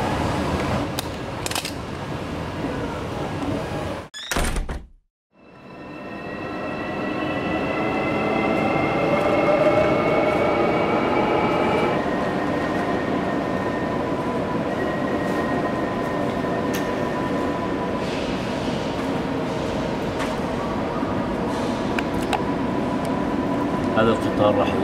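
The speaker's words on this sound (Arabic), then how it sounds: "هذا القطار راح يودينا هسه على" A Korean train rides from Seoul toward Busan, its steady interior rumble and hum filling the carriage. A sharp bang and brief dropout come early, then the sound settles into an even, sustained ride noise with faint tones over it.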